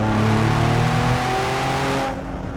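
Ford Explorer ST with an aftermarket budget downpipe revving up in sport mode at high RPM, a loud steady engine drone with rising harmonic tones that drops off near the end.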